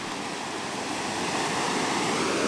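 Ocean waves surge in a steady, broad wash of surf that swells slightly louder toward the end, with no voices present.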